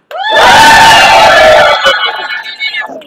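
A crowd at a political rally responds with loud screaming and cheering that swells and then fades into scattered shouts, with one sharp clap-like hit near the end.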